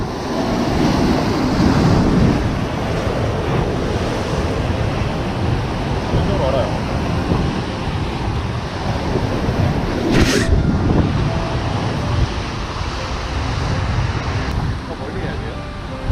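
Ocean waves break on an Australian fishing shore, rolling in as a broad, steady wash that swells and recedes, with wind buffeting the microphone.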